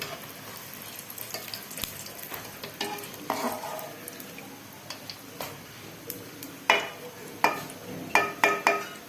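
Laddu peethi frying in hot oil, a continuous sizzle broken by scattered utensil clinks and scrapes that become louder and more frequent toward the end.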